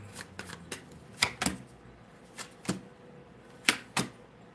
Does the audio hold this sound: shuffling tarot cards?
yes